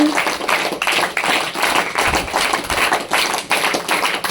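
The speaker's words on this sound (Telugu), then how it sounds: "ఒక్కసారి మీరందరూ మీకోసం మీరు చప్పట్లు కొట్టండి" A group of boys at a juvenile home gathering for a Raksha Bandhan celebration claps together, a dense, steady patter of many hands that continues evenly for several seconds without voices.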